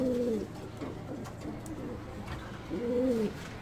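A young Gaditan pouter pigeon coos close by, two soft rolling coos separated by a pause over low background noise.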